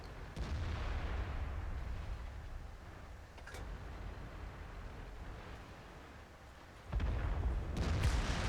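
Tank cannon fire in a tank video game, heard as a few heavy booms over a constant low rumble of engine and battle ambience, with one burst near the start and another loud shot toward the end.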